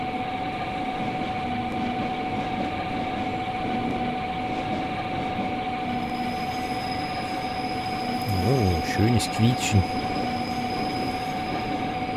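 A train in Train Simulator 2013 rolls slowly into Hannover station, a steady rumble and hum with faint clatter, then squealing wheels screech in a short cluster near the end.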